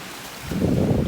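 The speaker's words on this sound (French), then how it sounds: "Petite place au bord du fleuve." Outdoor ambience at a small spot on a riverbank in Québec, with a steady hiss of wind and a broader low rushing swell of wind and water rising midway and staying loud, no voices.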